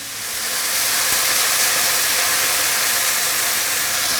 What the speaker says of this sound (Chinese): 我们把刚刚淘米的这个水啊，给它倒进去